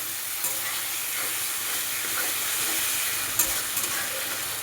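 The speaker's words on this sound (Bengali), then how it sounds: "এখন আমি বাটা মশলাটা দিয়ে দিলাম। ভালো করে 5 মিনিট অন্তর কষাতে থাকবে।" Ground spice paste frying in oil for a ridge gourd and potato malai curry, a continuous close hissing sizzle with occasional stirring scrapes.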